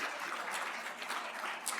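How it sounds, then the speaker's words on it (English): Audience applause at a St. Patrick's Day band show, a steady wash of clapping from many hands filling the whole moment without a break. "How about a round of applause for yourselves?"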